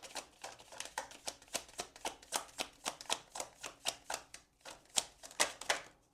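Oracle cards are shuffled by hand, giving a quick, even run of soft papery riffles and flicks, close and quiet, with no voices.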